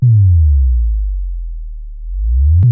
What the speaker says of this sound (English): Next we have this sub-bass drop.